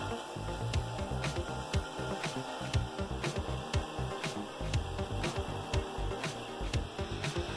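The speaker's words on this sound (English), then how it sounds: "I decide to sand down the edges and the corners to the line" Wooden edges and corners of an oven push-pull stick are sanded by hand, with quick, close, rhythmic rasping strokes repeating steadily.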